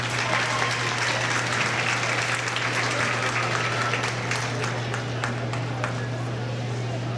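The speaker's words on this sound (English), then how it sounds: "Let's give him another well-deserved round of applause." A crowd applauds steadily at a county fair goat show, dense continuous clapping filling the arena with a steady low hum underneath, a voice faintly audible within.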